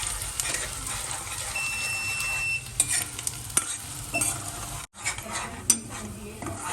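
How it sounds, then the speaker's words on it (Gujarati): Chopped onions sauté with cumin in a pan, giving a close, continuous sizzle broken by scraping stirs and a few sharp clinks of a spoon against metal. "હવે થોડા લાઈટ બ્રાઉન થઈ ગઈ છે ડુંગળી સતળાઈ ગઈ છે"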